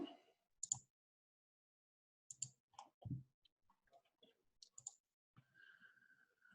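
Sharp computer mouse clicks come in small clusters at the start, middle and end, crisp and close against near silence, with light clicking bursts between them and a faint sustained tone near the end.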